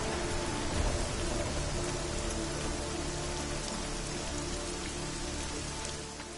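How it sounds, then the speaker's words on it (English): Heavy, steady rain patters on surfaces throughout a London level in the video game Deus Ex: Mankind Divided, a dense continuous hiss with a low hum beneath, no voices. "I really like the rain that they added in."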